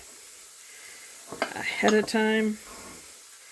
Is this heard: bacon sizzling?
yes